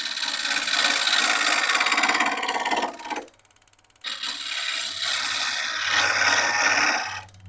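A lathe gouge cuts spinning Russian olive wood with a steady, loud rasping hiss that drops out briefly for about a second, then resumes as the bevel rides the surface, its tone shifting slightly as contact spreads across.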